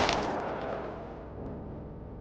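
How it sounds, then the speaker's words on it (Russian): A gunshot sound effect in a Russian audiobook: a single sharp report at the start that rolls away into a long, fading echo, heard alone without narration. "Звук выстрела эхом прокатился по небу"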